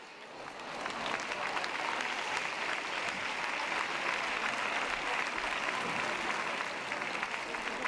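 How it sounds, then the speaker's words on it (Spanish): Attendees at an educational innovation conference break into applause, clapping swelling in within the first second and holding steady and dense for several seconds, with faint voices underneath. "Un aplauso"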